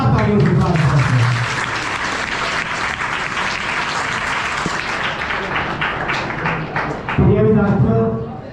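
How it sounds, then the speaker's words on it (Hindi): Hearty applause from students at a school in Kaithal, Haryana, welcoming visiting health department and Red Cross teams at a drug-free India event, dense clapping throughout with voices heard at the start and end. "हम हमारे विद्यालय में पहुंचने पर तहे दिल से जोरदार तालियों से स्वागत करते हैं"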